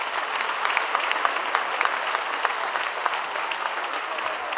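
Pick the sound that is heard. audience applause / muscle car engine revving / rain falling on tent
audience applause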